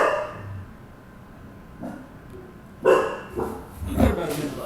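A pet dog barks a few short times near the end, fairly close and loud, with a person talking over a quiet room before it.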